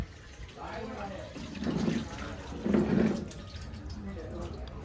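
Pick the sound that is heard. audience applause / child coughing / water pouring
water pouring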